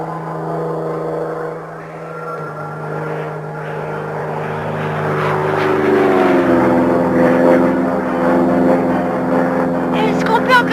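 A propeller aircraft drones overhead with a steady harmonic engine hum that rises in pitch and grows louder as it approaches, with people talking over it.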